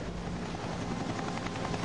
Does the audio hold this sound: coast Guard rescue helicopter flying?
yes